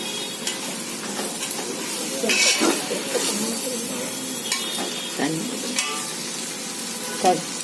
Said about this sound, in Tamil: தக்காளி போட்டு நல்லா வதங்கட்டும்